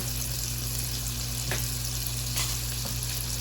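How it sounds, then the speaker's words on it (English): Pork tenderloin sizzles in butter in a skillet, a steady close frying hiss with a few brief pops and crackles throughout, no talking. "You want to hear that nice sizzle."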